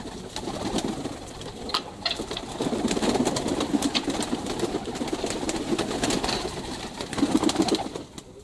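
Cochin and Brahma pigeons in a dovecote for sale, cooing softly and steadily across the clip, with a few brief rustles and knocks from the birds nearby.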